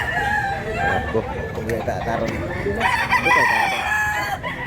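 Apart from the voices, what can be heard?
rooster crowing, pumpkin sweeter chicken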